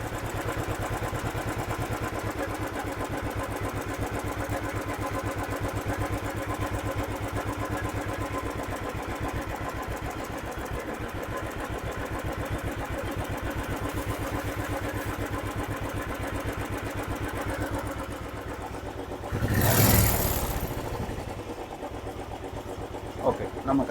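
A Royal Enfield Thunderbird 500 idles steadily with an even low thump while its RPM is being set, and a brief rev swells near the end as someone talks throughout.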